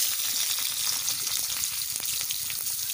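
Chopped onion and green chili fry in hot oil with nigella seeds, giving a dense, steady sizzle that stays loud and close throughout.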